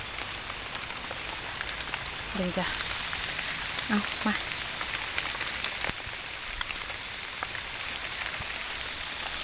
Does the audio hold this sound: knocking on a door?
no